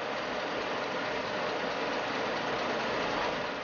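A century-old loom weaving tartan runs in a steady, dense mechanical roar, the flying shuttle fired through the warp threads buried in a continuous loud clatter with no pauses.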